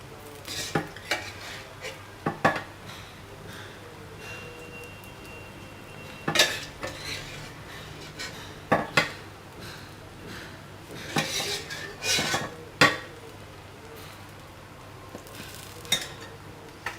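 A spoon scrapes and clinks against a metal pot as masala is stirred into layered biryani rice, irregular knocks and scrapes over a faint background hum, no speech.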